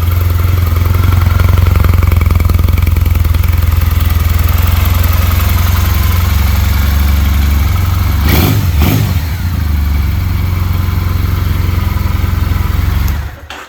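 A 2006 Triumph Bonneville T100 motorcycle engine runs loud and close, holding a strong steady rev with a deep throbbing low end, briefly easing off and then climbing again near the end, with no voices.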